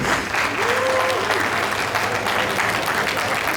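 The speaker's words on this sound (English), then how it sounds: "Can I have a big round of applause?" Audience applause at a gala night investiture of an engineering association president, a sustained dense roll of many hands clapping, loud and even throughout, with a brief whistle-like tone early on.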